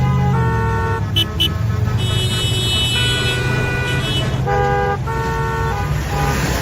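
A car passes close by with a steady engine rumble while short horn toots sound twice, mixed with bright tonal background sounds.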